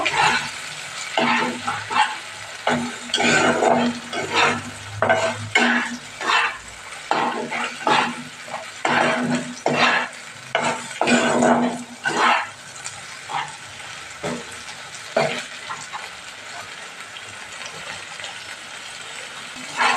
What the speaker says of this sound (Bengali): মশলাটাকে একটু কষিয়ে নেব।